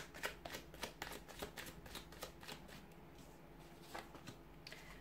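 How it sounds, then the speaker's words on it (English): Tarot cards being shuffled by hand, a quick series of soft riffling flicks and taps, close and fairly quiet, with no talking. "So we'll give the cards a shuffle and see what messages they're predicting for you today."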